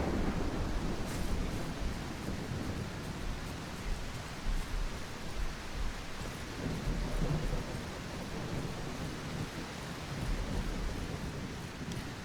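Steady rain falling throughout with a dense, even hiss and low rumble, continuous and moderately loud with no voices.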